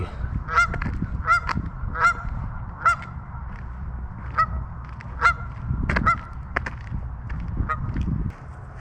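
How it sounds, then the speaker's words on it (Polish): Wild geese honk repeatedly in irregular bursts in Minnesota, several calls overlapping, over a low outdoor rumble of wind. "dzikie gęsi"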